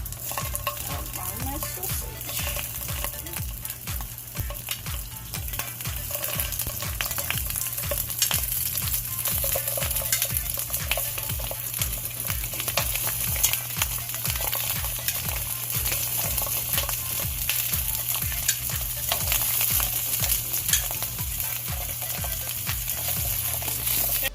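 Sausage fries in grapeseed oil in a skillet, making a loud, dense, unbroken sizzle with crackle that holds steady the whole time over a low background hum.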